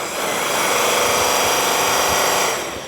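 A cloth buffing wheel, rated to a maximum of 1,800 RPM, spins up to polish a brass cymbal, rising into a loud, steady motor whine that holds before tapering off.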